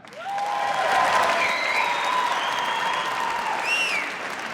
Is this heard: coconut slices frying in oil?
no